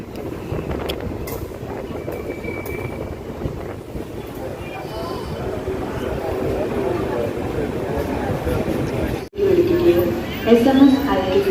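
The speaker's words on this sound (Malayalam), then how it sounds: "കണ്ണൂർ റെയിൽവേ സ്റ്റേഷനിലേക്ക് ഇതാ ട്രെയിൻ എത്തിക്കൊണ്ടിരിക്കുകയാണ്" A Mangaluru–Chennai superfast sleeper-class train pulls into Kannur railway station, its steady rumble mixed with wind noise running throughout. A voice talks over it, and there is a brief dropout near the end.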